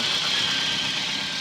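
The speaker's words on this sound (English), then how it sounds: "Car is idling now." A VW Golf or Polo engine with an over-fuelling MP9 fuel injection fault idles steadily up close, a constant hum with a faint high whine and slight vibration.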